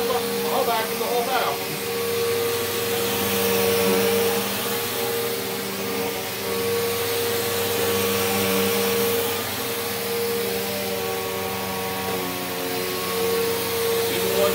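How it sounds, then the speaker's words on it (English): A vacuum cleaner runs continuously with a loud, steady motor whine and airflow roar, close by, while people talk over it. "I can vacuum all day with this."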